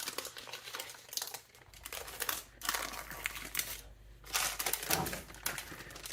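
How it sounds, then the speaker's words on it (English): Parchment paper peeled and crinkled off a freshly baked, yeast-proofed egg white bread loaf, giving close, intermittent rustling and crackling bursts with short pauses. "pull it out of the parchment paper right now and put it on a wire rack"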